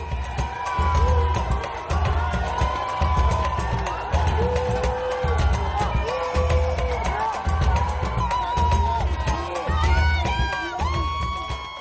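Roughly 500 football fans of Brazil's national team cheering outside the team hotel as the bus arrives, a dense, sustained crowd roar with shouts, whistles and whoops rising throughout.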